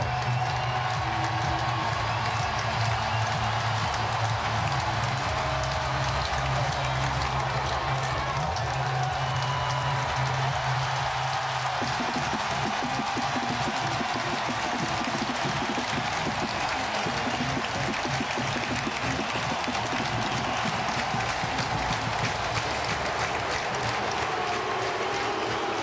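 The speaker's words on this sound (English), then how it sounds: "The crowd ready to explode as the Badgers" A college football stadium crowd roars continuously as the Wisconsin Badgers file out of the tunnel against Ohio State, a dense, loud wash of cheering that swells further partway through.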